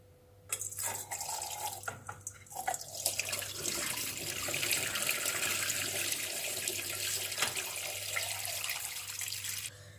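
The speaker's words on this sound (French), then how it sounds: "Une fois que mon bouillon est cuit, je vais le filtrer." Cooked broth from a cassoulet pours through a strainer in a steady, continuous liquid splash lasting several seconds, close and fairly loud, with a few handling clunks at the start and a constant low hum underneath.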